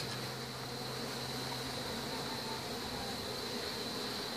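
Honey bees swarming in a dense, continuous buzz during a hive removal, loud and close with a steady droning hum and no voices.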